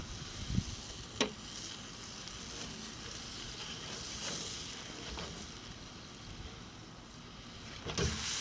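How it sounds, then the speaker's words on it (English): Chicken breast and rack of lamb sizzling on a BBQ grill, a soft continuous frying hiss heard from close by, broken by a few faint clicks and knocks. "I love the sizzle."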